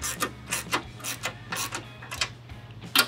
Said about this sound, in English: I'm going to come in here with a 1/2 inch socket with an extension